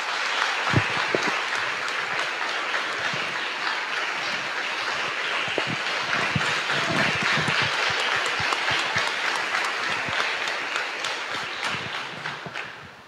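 Applause from a parish congregation at a Santa Rita feast-month church service, a dense, steady wash of many hands clapping in a reverberant hall, sustained for about twelve seconds before tapering off.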